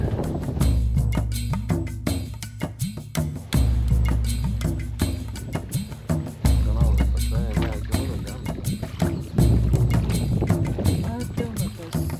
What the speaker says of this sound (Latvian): tagad laidīsim ar šādu laiviņu.